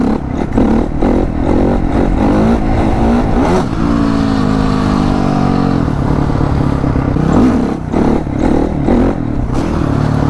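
A Honda CRF 450 four-stroke motorcycle engine revs hard and repeatedly, with bursts of throttle rising and falling over a steady loud engine roar, close by and with no talking.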